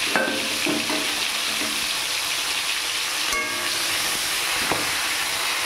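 Hilsa fish heads frying in a pan over a low flame, giving a steady, even sizzle with a few small pops and crackles throughout.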